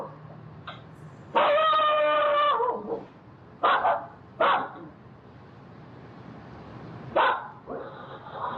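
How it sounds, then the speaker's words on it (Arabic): A guard dog barks close by in separate bursts, one drawn-out, whining bark followed by several sharp single barks with quiet gaps between them. "دوي نباح الكلب"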